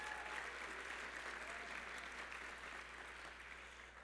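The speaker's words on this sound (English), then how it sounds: "So let's give them a round of applause." Sustained audience applause fills a room of about a hundred and forty people at a closing brunch for a student housing conference, a steady broad wash of clapping heard alone, evenly loud and tapering slightly toward the end.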